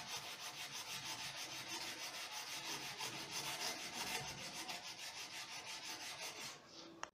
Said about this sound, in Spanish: Entonces se le va a lijar.